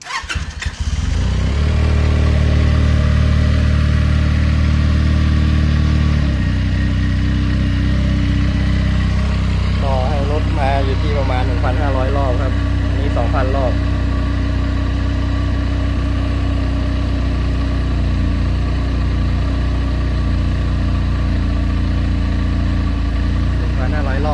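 A Benelli TNT300 motorcycle with its stock exhaust starts up and settles into a loud, steady idle close by, the engine note holding even throughout with a few brief faint chirps partway through.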